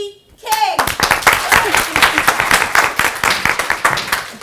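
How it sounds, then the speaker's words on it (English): Applause at a London public-speaking event breaks out after a short cry and voices, then continues as loud, close, crisp clapping from a crowd, with some chatter mixed in. "a big applause to Dee King."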